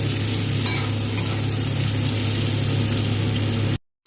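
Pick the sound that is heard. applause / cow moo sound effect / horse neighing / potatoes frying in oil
potatoes frying in oil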